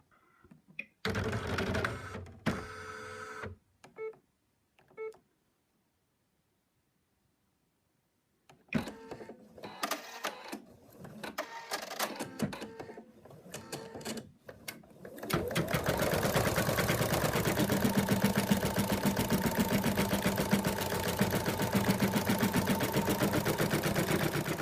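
An embroidery machine stitches the outline of an appliqué moose body in bursts, with a rapid mechanical chatter that starts and stops before settling into a long, steady, loud run.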